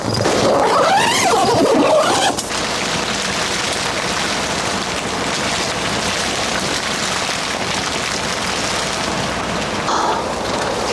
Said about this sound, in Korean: 갑자기 오늘 비 예보가 있었나? 비가 오네요.